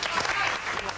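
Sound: studio audience applauding a band

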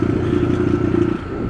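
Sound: Honda CB300R motorcycle exhaust

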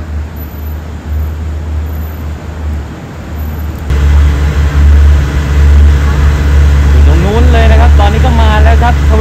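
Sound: SRT Sprinter diesel railcar express train arriving at Bangkok station

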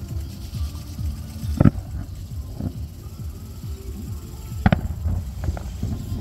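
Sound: fireworks salute over the rowing canal

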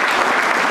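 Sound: applause

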